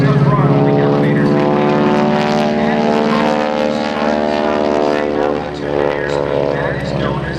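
A T-6 Texan propeller plane flying aerobatics at an air show, its steady droning engine loud and continuous throughout while an announcer talks over it.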